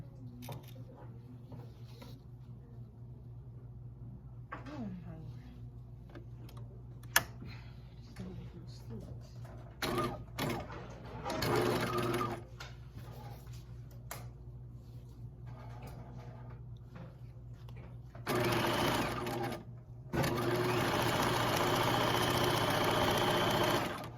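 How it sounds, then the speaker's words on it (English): Sewing machine stitching a 5/8 seam for a romper, running in bursts with steady mechanical whirring, louder near the end, with talking in between. "I'm going to stitch a 5/8"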